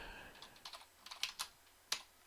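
Quiet keystrokes on a computer keyboard, a short irregular burst of light clicks followed by a pause and one final sharper tap.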